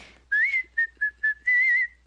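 A person whistles a tune, a clear melodic line in about five short phrases, with one sustained note at the end. It is close and fairly loud, and no one speaks over it.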